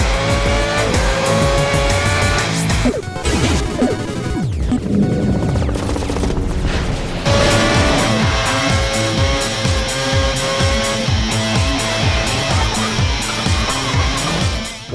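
Formula One cars racing in the video game F1 2010, with loud high-pitched engine whines rising and falling through gear changes, tyre squeal and passing cars, continuous and close.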